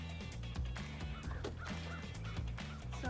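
Several chickens, including Silkies, cluck and murmur softly nearby in short, overlapping calls outside their coop.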